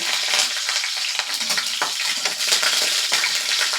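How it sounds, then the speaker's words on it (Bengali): Crackling, bubbling sizzle of dry chillies frying in oil, with scraping stirs throughout, steady and fairly close. "লঙ্কাগুলোকে একটু ভাজা ভাজা করে নেব।"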